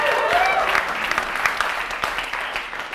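An audience at an NGP VAN event applauds the team, with sustained clapping from a room full of people and a few voices rising over the crowd's applause.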